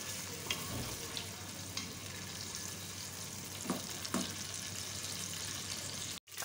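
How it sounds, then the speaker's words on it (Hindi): Onions frying in hot ghee in a pan, a steady, faint sizzle with a few soft stirring scrapes and clinks, continuous to the end with no talking. "साथ ही इसमें प्याज डाल दें। प्याज को अच्छी तरह से गोल्डन ब्राउन होने दें।"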